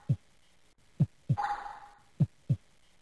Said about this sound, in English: The heartbeat sounds annoying.